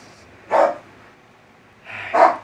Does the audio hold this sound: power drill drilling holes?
no